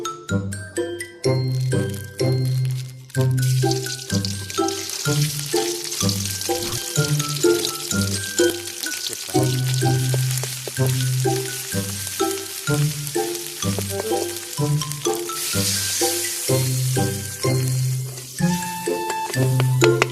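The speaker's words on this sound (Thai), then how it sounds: "เดือดแล้วท่านผู้ชม" A pot of Thai curry bubbling at a steady boil, with continuous sizzling and small clinks of a utensil, while a low musical tone pulses in the background; no talking.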